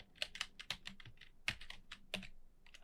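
Slow, uneven keystrokes on a computer keyboard tap out one by one in soft, close clicks, with no voices.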